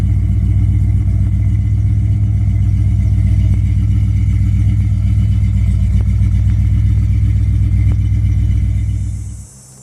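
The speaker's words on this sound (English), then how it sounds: "I care for the turbo mufflers on the van. A little bit loud for my liking" A 1977 Dodge Tradesman van's 318 small-block V8 idles close by through turbo mufflers with a loud, deep, lumpy exhaust rumble. The engine then shuts off abruptly at the end.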